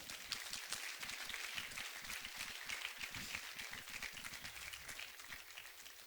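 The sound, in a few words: applause in church congregation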